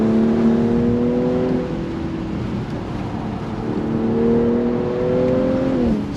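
A 2022 Audi S5 convertible engine drones and revs, pitch stepping down through downshifts, then climbing again with a sharp rev change near the end; loud and close.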